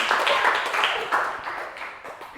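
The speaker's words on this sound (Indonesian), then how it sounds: "Tepuk tangan." A small classroom group claps for a correct answer, a short burst of near, uneven handclaps that thins out over about two seconds with some voices mixed in.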